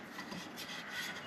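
Sandpaper rubs across wood on a boat in a brief, faint, rasping stroke.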